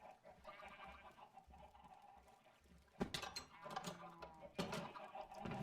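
In a video game, chickens cluck and squawk amid cattle and sheep calls on a farm, rising louder toward the end, with faint background music underneath.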